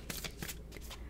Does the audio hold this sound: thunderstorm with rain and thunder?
no